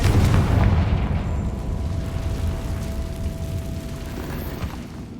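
A blasting-spell explosion goes off in Hogwarts Legacy, a loud, heavy boom with a low rumble that fills the opening and slowly trails off into a long, fading tail.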